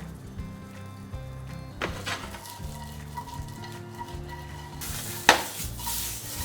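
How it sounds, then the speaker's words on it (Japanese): Paprika and green beans stir-fried in a little salad oil in a frying pan, a steady close sizzle with occasional louder scrapes and a sharp clack of the utensil against the pan. "パプリカとインゲンを先に炒めます"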